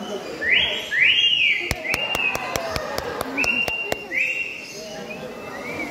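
A parrot imitates a whistle: rising and falling whistled notes, close and clear, repeat several times while a quick run of sharp clicks taps through the middle, at a bird show.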